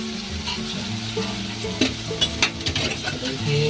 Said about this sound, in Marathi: कांदा टोमॅटो शिजत आहे